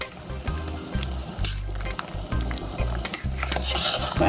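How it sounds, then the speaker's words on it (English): Noodles being stirred into a pot of Jamaican pumpkin soup: wet, bubbling liquid with repeated low sloshing stirs and soft splashes, heard close up and alone. "I'll just stir it because I like to allow it to cook really well"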